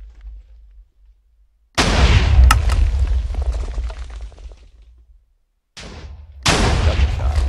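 Minecraft TNT cannon blasts from a dispenser-fed cannon, two loud booming explosions with a gap of quiet between them, each decaying into rumbling debris, heard alone.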